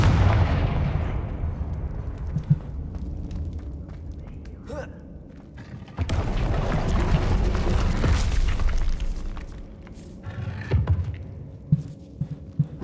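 Confringo fire-spell blasts from the video game Hogwarts Legacy, delivered as loud, booming explosions with heavy low rumble, a sharp burst near the middle and scattered smaller impacts after it.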